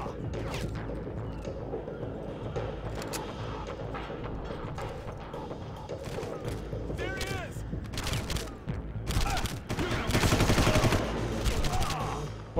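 Gunfire in the video game Far Cry, with rapid bursts and scattered shots building into heavier, louder volleys toward the end, mixed with voices talking.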